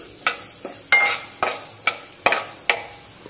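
Urad dal frying in a pan is stirred with a utensil, giving sharp scraping clacks at an irregular rhythm over a soft, steady sizzle.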